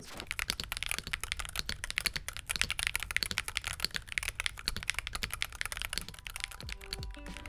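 A Hall effect mechanical keyboard, the Fil 75 HE, is typed on steadily and fast. Its dense, crisp key clacks come close and fill the clip, with no voices.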